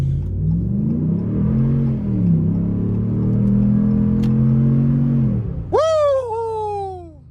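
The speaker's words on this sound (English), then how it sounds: "You heard the rev on that engine." A 2015 RAM 1500 Big Horn pickup truck engine revs loudly, its low rumble holding and rising before a sharp high whine and throttle surge near the end, close by.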